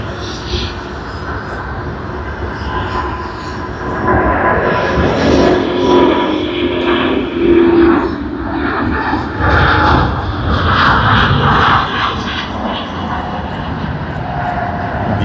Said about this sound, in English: let us capture TG476, the departure to Bangkok